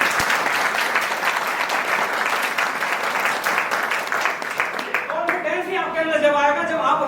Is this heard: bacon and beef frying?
no